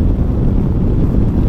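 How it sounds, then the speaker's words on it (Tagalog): Strong wind buffets the microphone while riding a Kymco Xciting VS 400 scooter at about 100 on an expressway, a steady loud low roar filling the whole stretch with no talk. "Malakas ang hangin."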